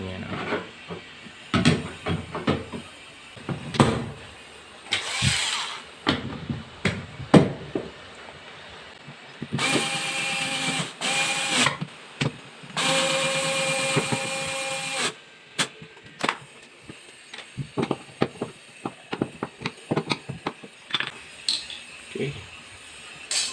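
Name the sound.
screw being driven into a three-prong outlet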